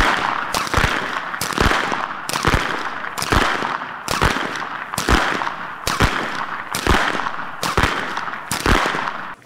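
Sharp whip cracks ring out in a steady, fast rhythm, roughly two per second, loud and close, with no talking, from traditional Austrian whip-cracking (Schnalzen) at a competition in Siezenheim.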